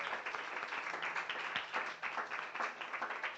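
Applause from a congregation during a church service, steady and fairly faint, sustained throughout.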